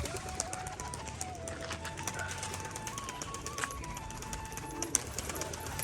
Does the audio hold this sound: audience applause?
no